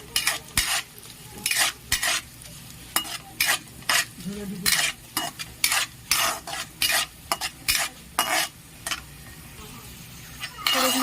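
Cashews fry in a pan for basanti pulao under a soft sizzle, while a spatula scrapes and stirs in a regular rhythm of sharp strokes, close and clear.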